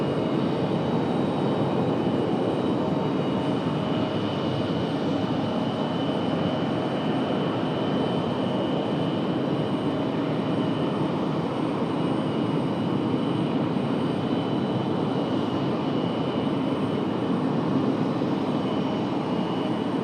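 A United airliner taking off from runway 23 right at Raleigh-Durham airport, a steady loud roar of jet engines that holds continuously without talk.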